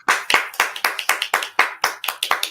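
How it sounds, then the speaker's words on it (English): One person's hands clap about a dozen times in a quick, even rhythm, each clap sharp and close with brief gaps between, and no talking. "I gotta clap to that."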